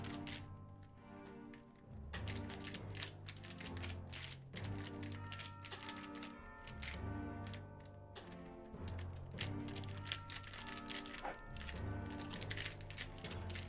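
A cat belly-flops onto a computer keyboard, setting off a dense, continuous clatter of pressed keys, busy and mechanical, sounding like rapid typing throughout.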